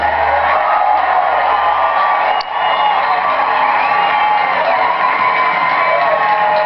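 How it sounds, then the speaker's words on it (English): A large crowd at a public farewell event cheers steadily and loudly throughout, a dense continuous roar of voices with whoops that never lets up. "Give her a final cheer for this moment."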